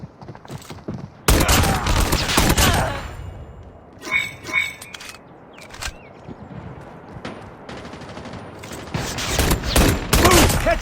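Pistol shots in the mobile video game Call of Duty Mobile, with several bursts of sharp gunfire separated by pauses, plus brief game effects and a few short spoken voice callouts.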